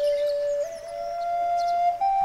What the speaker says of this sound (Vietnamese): một tiếng sáo từ đâu vang vọng tới